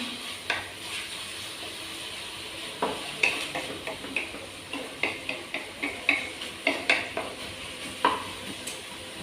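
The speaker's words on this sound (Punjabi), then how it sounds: "ਪਿਆਜ਼ ਭੁੰਨਦਿਆਂ ਨੂੰ ਹਰਮਨ ਨੂੰ ਦੇਖਿਓ ਵੀ ਕੋਈ ਇੰਨੀ ਰੀਜ਼ਨ ਨਾਲ ਪਿਆਜ਼ ਭੁੰਨਦਾ ਹੁੰਦਾ" Onions frying in a pan for Maggi noodles, a soft steady sizzle under repeated scraping and stirring with a spoon, sharper metallic clinks picking up in a quick irregular rhythm toward the end.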